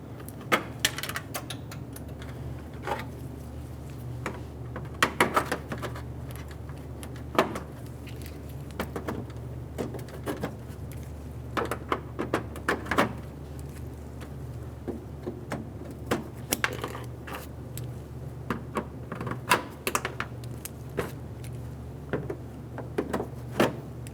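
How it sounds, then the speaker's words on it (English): Plastic clips being pried out of the top trim piece on a 2003-2008 Honda Pilot, a long run of irregular sharp clicks, snaps and knocks at close range over a faint low hum, with no speech. "There's going to be 13 clips in this top trim piece. Go ahead and remove them all."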